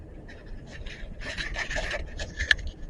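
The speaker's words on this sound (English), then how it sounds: "Here I'm cutting out the shape by hand with a pair of scissors." Scissors cut by hand through plastic sheeting for a car gasket, giving short rasping, rubbing snips at close range, quiet and irregular, with no talk.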